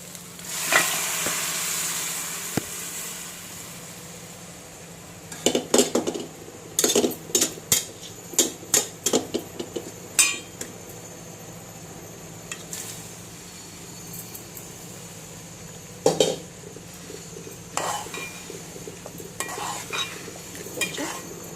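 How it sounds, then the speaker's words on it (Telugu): Mutton pieces go into a pot and get stirred, with scattered metallic clinks and scrapes of a spoon against the vessel over a steady low sizzle, louder bursts in the middle and near the end, no talking. "ఇప్పుడు ఇందులో మటన్ వేసేసుకుంది."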